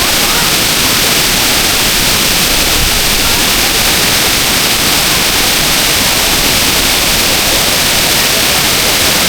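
Erawan waterfall in Thailand pours steadily at one of its upper tiers, a loud, continuous broadband rush of falling water that fills the whole clip without pause.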